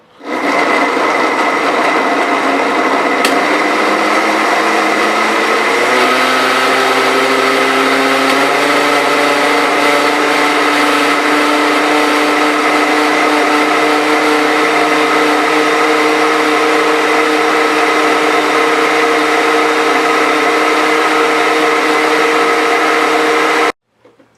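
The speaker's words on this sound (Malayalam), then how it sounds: "ഇപ്പം നമുക്ക് ജ്യൂസ് അടിച്ചിട്ട് വരാം" An electric blender whirs steadily for about 24 seconds as it blends fruit with milk, ice cream and sugar into a milkshake, a loud continuous motor hum whose pitch shifts lower early on, then holds.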